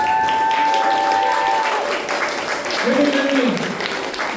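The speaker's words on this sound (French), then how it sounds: "vous pouvez tous les applaudir" Crowd applause at a cosplay contest awards ceremony at an anime convention, steady dense clapping throughout with voices talking over it.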